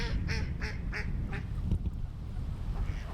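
A run of rapid nasal quacks from black ducks on open winter water, fading after the first second, over steady outdoor background noise.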